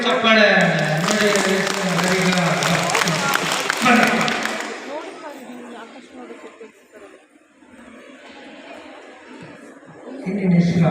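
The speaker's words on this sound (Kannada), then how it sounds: "ಚಪ್ಪಾಳೆ ನೋಡಿ" Children clapping together at a school bagless day celebration, a dense burst of applause with chatter and laughter for a few seconds, then fading into quieter murmuring room noise before a voice returns.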